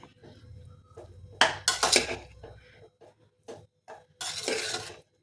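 A spoon mixes cooked palak rice with ghee in a pot, giving irregular bursts of metallic clanks and scrapes, some loud and clustered, others soft, with short pauses between them.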